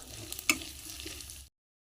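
Whole garam masala spices, bay leaves and ginger-garlic paste frying in oil, a soft steady sizzle with one sharp clink near the start, cutting off abruptly before the end.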